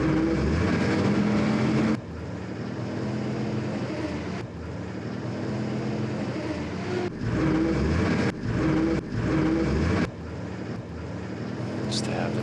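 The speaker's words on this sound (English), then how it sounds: "I'm going to pull some of these empty trucks forward." Truck engines rumble in the video game West Front as empty trucks are moved forward, a loud droning engine hum broken by abrupt cuts and restarts, under talking.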